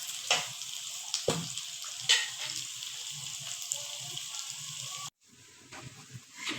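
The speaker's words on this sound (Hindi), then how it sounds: "इनको भी लाइट ब्राउन कर लेना है हाई फ्लेम पे" Thinly sliced onions, about half a kilo, sizzle in hot oil over a high flame. It is a steady, close frying hiss with a few louder crackles and stirring bumps, and it drops quieter near the end.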